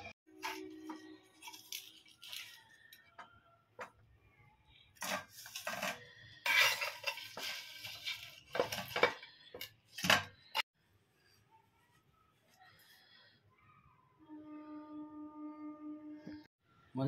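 Smoky chicken fry is scooped into a serving bowl with scattered scrapes, clinks and rubbing of a utensil against the pan and dish. The bursts are irregular with quiet gaps between them, and a faint hum sits underneath.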